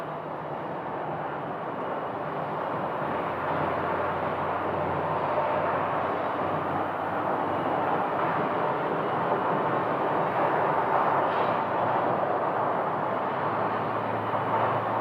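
A steady, broad roar from an Airbus A320 airliner at Phoenix Sky Harbor airport, holding a constant level for about fifteen seconds with no talking.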